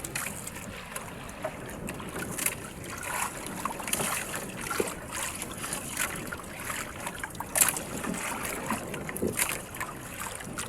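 Steady wind rushing over open water, with gusts and a broad hiss, a boat faintly present beneath the blustery noise.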